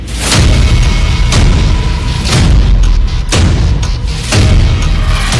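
A Russian ballistic missile strike on Ukraine gives a series of loud, heavy booms about a second apart over a continuous deep rumble, close and powerful.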